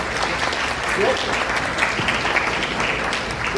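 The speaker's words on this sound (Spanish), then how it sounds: "Súper, sí, un aplauso." Audience applause at a gathering on a national park as a water source, a steady bed of clapping with voices murmuring and talking underneath throughout.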